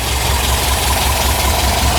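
Porsche 914 engine idling smoothly after an auxiliary air valve repair: steady low rumble, even throughout, close and continuous with a faint vibrating hum.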